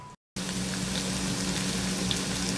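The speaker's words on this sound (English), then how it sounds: "Now let those start sizzling good for a little bit," Food sizzles steadily in a frying pan, a loud, continuous crackling hiss that starts after a brief moment of silence and carries on without talk.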